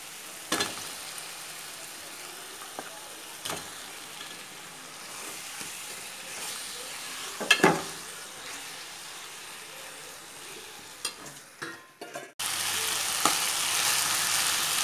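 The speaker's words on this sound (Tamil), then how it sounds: "இந்த டயத்தில் வந்து சிக்கனை போட்டு வதக்கிக்கலாம்" Chicken sizzles and crackles in a hot pan with occasional scrapes and clanks of stirring, then the sizzle swells louder near the end.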